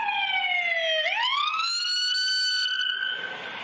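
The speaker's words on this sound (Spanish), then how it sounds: "muestra los segundos previos cuando la patrulla pasa con luces y sirena encendida" A police patrol car siren wails close and loud, its tone sliding down then sweeping back up and holding high before easing slightly at the end, with no voices over it.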